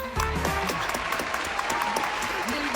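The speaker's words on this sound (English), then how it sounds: "Round of applause." An audience breaks into brief, lively clapping that starts abruptly and holds steady, with a voice speaking over the applause.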